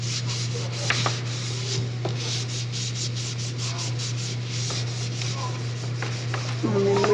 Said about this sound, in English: Turn it over and get your hand in there and burnish it down really well with your paper